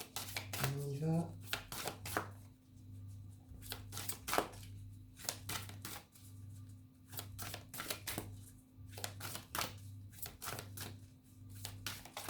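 Tarot cards shuffled for a March reading for Pisces: close, crisp riffling bursts repeat in a steady rhythm for the whole stretch over a low constant hum, with a brief voice near the start.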